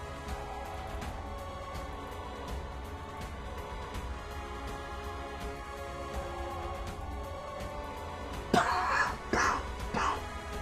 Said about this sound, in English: I got a little bit of a nasty cough today.